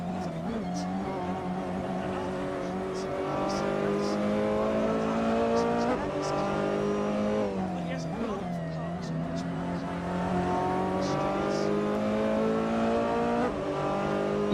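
Race cars from Ferrari, Audi and Porsche circle Monza in the Assetto Corsa racing game, with a continuous loud engine drone that climbs and dips in pitch through gear changes and a few faint tire squeals, under steady commentary.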